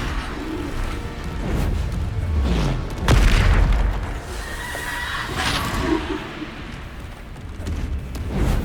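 A heavy Bombarda blasting-spell explosion in a Harry Potter-style video game, one sharp booming hit followed by a rumbling tail amid other game effects, with no talking.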